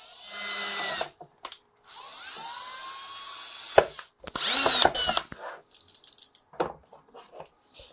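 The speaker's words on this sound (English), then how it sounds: "I'm going to have to drill these other holes" Power drill boring holes in a 3D-printed plastic arcade controller, several high whining bursts of a second or two that rise and fall in pitch, close and loud with short gaps between.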